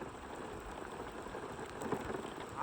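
Steady rain falls during a wind and rain storm on Norris Lake, Tennessee, a dense continuous patter of drops on surfaces, soft and distant-sounding, with no voices.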